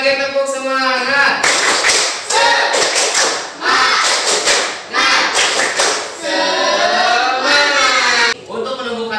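Students in an Indonesian classroom repeat the tepuk semangat spirit clap, patterned volleys of loud hand claps and thumps woven with group chanting, near and full, ending in a brief pause.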